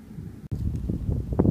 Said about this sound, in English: I know you guys can hear that wind now